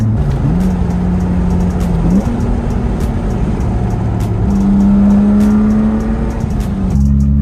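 Rare classic car engine runs close by with a loud, steady rumble, its pitch stepping up and down through mild revs for several seconds.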